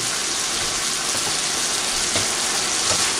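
Cumin and coriander powder with garlic paste sautéing over medium-high heat in a pan, a steady close sizzle filling the clip with faint scraping stirs and no talk.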